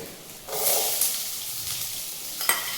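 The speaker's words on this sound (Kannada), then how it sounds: "ಆನಿಯನ್ಸು ಗೋಲ್ಡನ್ ಬ್ರೌನ್ ಕಲರ್ ಬರೋವರೆಗೂ ಫ್ರೈ ಮಾಡ್ಕೋಬೇಕು" Onions fry in a pan for a village-style greens curry, a soft continuous sizzle with a few stirring scrapes and a brief clink near the end, close and fairly quiet.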